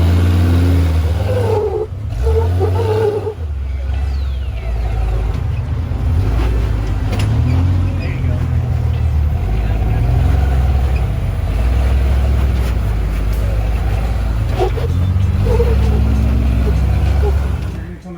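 An old-school junkyard off-road car with a solid axle and a swapped-in motor, its engine rumbling low and rising in revs up close, with people talking over the sound for most of the clip.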